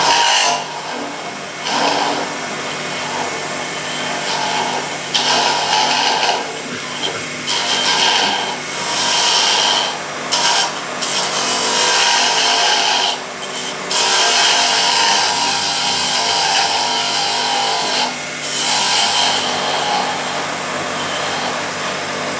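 A woodturning tool cuts a natural-edge laburnum wood vessel on a lathe, giving a loud, steady, high scraping whir that runs nearly the whole time, broken by several short pauses and dips.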